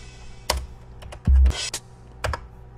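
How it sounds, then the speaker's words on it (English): Computer keyboard keys pressed to trigger drum samples in beat-making software, a few sharp isolated clicks with one booming low drum hit sustained in the middle, no talking. "What you heard there was me pressing the keyboard and it triggered our sounds."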